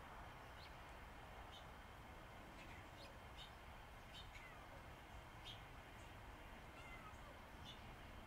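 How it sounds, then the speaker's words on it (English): A house cat meows several times at intervals, soft and somewhat distant, outdoors on an overcast morning, with faint bird chirps mixed into a steady background hiss. "That's kitty cat meowing."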